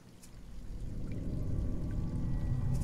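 Steady pouring rush of shower water running in the survival video game Sheltered, low and continuous with no talking.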